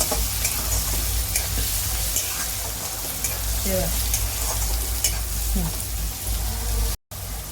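Moth beans (matki) for Kolhapur-style misal fry in a pan with turmeric, giving a steady close sizzle and crackle throughout with occasional stirring scrapes, a brief dropout near the end.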